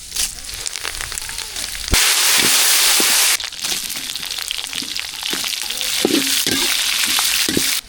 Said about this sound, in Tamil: சுண்டல் தாளிக்கிறதுக்கு என்ன சூடாச்சு கடுகு சேர்த்தாச்சு அடுத்தது வந்து வரமிளகாய் சேர்த்துக்கலாம்